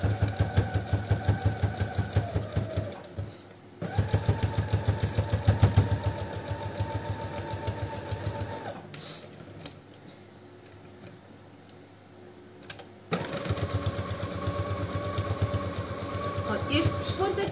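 Sewing machine stitching a purse with foam stabilizer, running in long steady bursts of rapid mechanical chatter, stopping and restarting, close up, with someone talking over parts of it.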